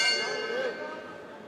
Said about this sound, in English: That is the bell, Joe.